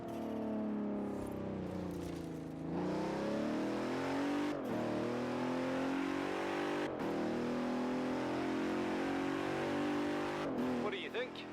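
A car engine revs hard in the racing game Forza Horizon 4, its rising whine climbing repeatedly and dropping at each gear change as the car speeds up, loud and continuous throughout.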